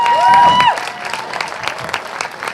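A crowd at the Brisbane Trail Ultra 2023 presentations applauds and cheers as a 100-mile runner finishes, a steady wash of close clapping with a brief whistle at the start.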